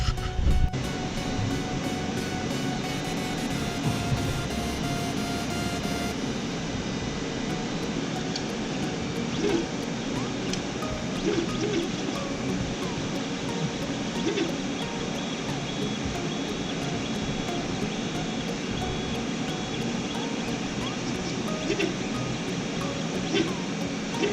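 A Creality CR-10 3D printer runs with its nozzle set too low, grinding steadily against the print; a continuous, fairly loud mechanical drone with scattered clicks persists throughout, with no speech over it.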